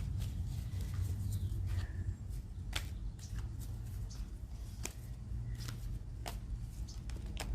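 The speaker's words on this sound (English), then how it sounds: "So I'm just shuffling until one of the cards shows itself to me, basically." A deck of oracle cards being shuffled by hand, with soft, continuous riffling and scattered sharper card snaps over a steady low background hum, close and fairly quiet, with no talking.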